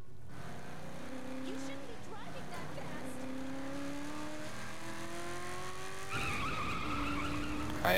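A car in Saints Row The Third accelerates with a rising, revving engine and squealing tires skidding across the road, continuous and fairly loud, with a sharper burst of engine noise near the end.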